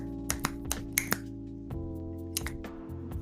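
Tapped three-against-four polyrhythm, sharp clicky taps in an uneven interlocking pattern over a sustained pitched tone in the background, close and moderately quiet.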